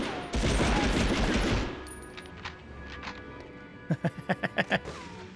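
A burst of gunfire opens loudly in the Medal of Honor game, then fades into quieter ambience before a quick string of about six sharp shots near the end.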